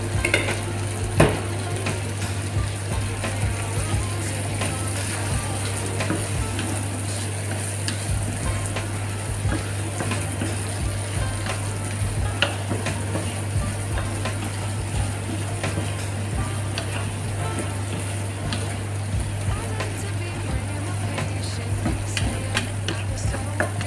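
Mixed garlic frying in butter in a pan, sizzling steadily up close while scattered utensil clicks and scraping stirs break through at intervals over a low hum.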